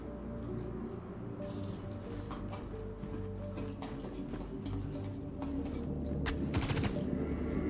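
Gunfire in Star Citizen, quick bursts of shots over a droning tonal hum, fairly faint and steady.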